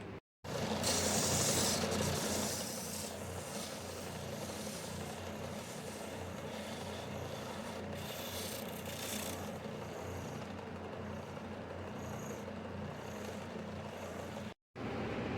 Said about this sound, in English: I'm going to take it over on the belt sander and put a little point on it like a